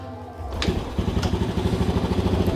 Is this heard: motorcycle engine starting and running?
yes